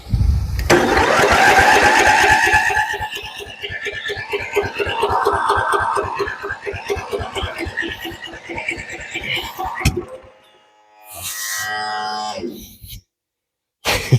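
A forgotten, long-neglected Ford LT-11 lawn tractor engine with a choke that won't close cranks repeatedly in a fast chugging rhythm, sputtering without catching, then falls quiet before a brief second burst of cranking, loud and close.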